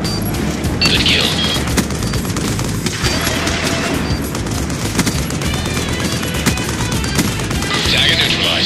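In Black Ops 2 on the Nuketown 2025 map, a VTOL warship fires sustained rapid bursts and heavy booms that pound loudly without letup, with faint voices underneath.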